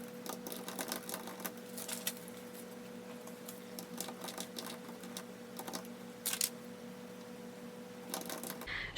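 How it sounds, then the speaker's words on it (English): Quiet, steady clicking of fingers typing notes on a laptop keyboard, irregular soft taps running throughout over a low background hum. "I'll write some notes on my laptop."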